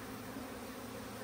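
Honey bees buzz at the entrance of an opened hive during spring splits, a faint, steady continuous hum with no pauses.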